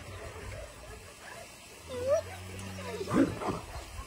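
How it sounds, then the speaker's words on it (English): Shelter dogs at play in a dirt hole, soft whimpers and a short high yelp over low scuffling and grunts, fairly quiet and close. "Dogs are having fun."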